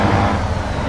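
A truck engine in Euro Truck Simulator 2 drones steadily as it pulls away, a loud continuous low rumble with mild revving that holds through the whole short stretch.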